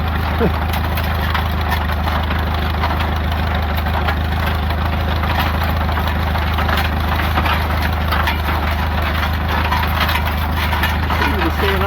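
A 1920 Allis Chalmers 6-12 tractor engine runs steadily while driving, a loud continuous low chugging drone with rhythmic pulses throughout, close to the listener.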